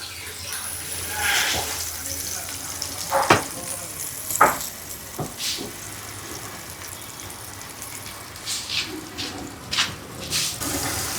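Small fish frying in a pan over a high flame, a steady close sizzle with occasional clatters and scrapes from turning the fish, while someone talks over it.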